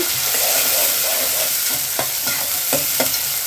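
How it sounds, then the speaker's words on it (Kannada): Finely chopped onions stirred over high flame in a pan, a loud continuous sizzle broken by repeated scraping strokes of the spoon at an even rhythm. "ಈರುಳ್ಳಿ ಈಗ ಇದನ್ನು ಚೆನ್ನಾಗಿ ಮಿಕ್ಸ್ ಮಾಡ್ಕೊಳ್ಬೇಕು"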